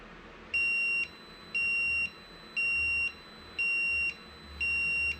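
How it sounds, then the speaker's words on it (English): High electronic beeps from a milling machine's leak alarm sound five times at a steady one-second rhythm, each lasting about half a second, clear over a quiet background hum. "I heard a beep"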